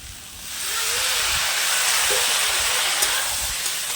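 Water splashed into a hot pan with green chillies, giving a steady hissing sizzle that swells after the first half second and holds, with faint bubbling and clinks.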